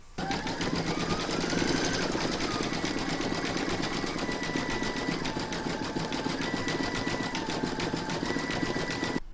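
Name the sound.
embroidery machine stitching pumpkin facial features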